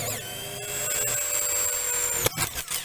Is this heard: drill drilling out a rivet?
yes